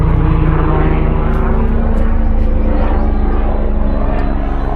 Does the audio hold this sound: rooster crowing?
no